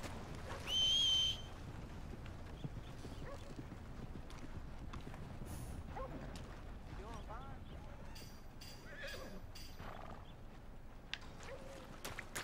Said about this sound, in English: There's our two horsies.